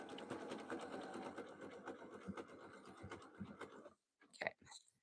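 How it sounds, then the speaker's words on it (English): A domestic sewing machine runs steadily up close, stitching a zigzag stitch on a jelly roll rug with a fast, even mechanical chatter, then stops and a few faint clicks follow. "now I'm going to turn back to my zigzag stitch"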